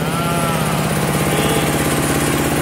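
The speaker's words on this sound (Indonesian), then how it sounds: "ini mesin giling khusus kita pesan dari Tiro." A rice milling machine's engine, a special-order mill from Tiro, runs steadily and loud with a continuous mechanical drone and rhythmic chugging throughout.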